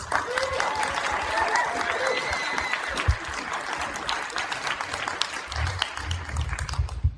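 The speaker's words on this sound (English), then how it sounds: "Please give her a round of applause." An audience applauds steadily, a dense wash of clapping from a room full of people with scattered louder claps and faint voices underneath.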